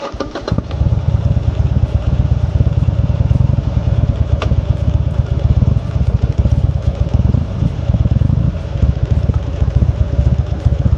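A Buell XB12 motorcycle starts and then idles close by, its loud, lumpy V-twin rumble pulsing steadily throughout with no one talking over it.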